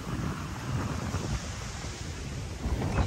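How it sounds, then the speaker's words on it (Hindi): Sea waves surge and wash continuously along a beach in drizzling rain, with wind buffeting the microphone throughout in a steady, rough roar and no voices. "ये देखें समंदर की लहरें, फुहार ऊपर से हो रही है बारिश की और पानी आ रहा है"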